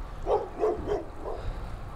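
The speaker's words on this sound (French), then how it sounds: "je viens de passer à côté d'une propriété où il y avait des chiens. Là, je les ai entendus" Several dogs at a rural property bark in a quick run of four sharp, mid-distance barks, with wind and road noise from a passing bicycle underneath.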